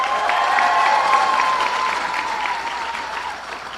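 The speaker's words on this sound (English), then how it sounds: "give it up for the Chief of Police from the city of Passaic, Luis Guzman." An audience at a governor's bill-signing ceremony applauds a police chief from Passaic, with steady, dense clapping that carries on for several seconds and tapers slightly toward the end.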